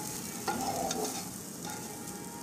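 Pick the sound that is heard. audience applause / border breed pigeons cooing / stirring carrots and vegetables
stirring carrots and vegetables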